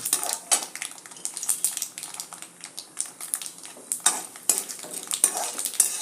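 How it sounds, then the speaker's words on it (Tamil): Mustard seeds and dal crackle and pop as they fry in oil in a pan, with scattered sharp bursts, a steady sizzle and occasional utensil scrapes, heard alone. "ஸோ கடுகு பொரிஞ்சு பருப்பும் வந்து பொரிய ஆரம்பிச்சிருக்கு."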